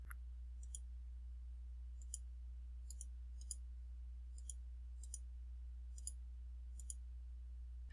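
Sparse, light clicks of calculator keys being pressed one at a time at an irregular pace over a steady low hum.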